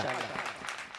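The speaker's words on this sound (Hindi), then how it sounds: "जोरदार तालियां बजाएं शहर अंजुम के लिए" Brief burst of audience clapping at an All India Mushaira poetry gathering, a dense wash of applause mixed with voices, fading within about a second.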